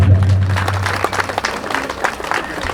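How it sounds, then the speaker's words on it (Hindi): Audience applause at an evening Vishnu yagna and Bhagavat katha gathering, a dense wash of clapping that starts strong and carries on steadily under faint background voices for a few seconds. "बधाई ताली"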